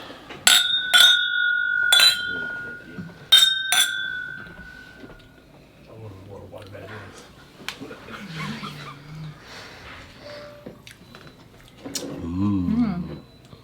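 Glasses clink together several times in a toast during a Foursquare Barbados rum tasting, with bright, close, ringing chimes early on, followed by soft chuckles and quiet talk.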